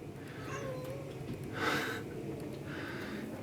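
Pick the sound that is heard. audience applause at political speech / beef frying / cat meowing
cat meowing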